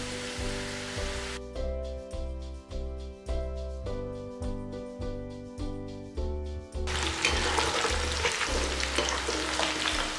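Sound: rice-flour-coated masala peanuts frying in hot oil

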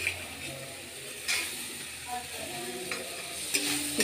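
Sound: peas being fried and stirred in a pan

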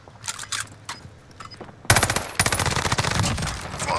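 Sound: gunfire in the video game Call of Duty

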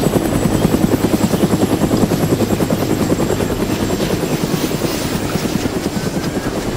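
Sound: helicopter taking off and flying in the video game DayZ

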